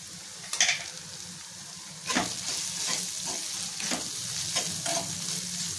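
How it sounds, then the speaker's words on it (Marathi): Turmeric, masala and goda masala stirred and sautéed in a pan for paneer bhurji, a steady close sizzle broken by several scraping stirs of the spoon, with no talking. "व्यवस्थित परतून घ्यायचे"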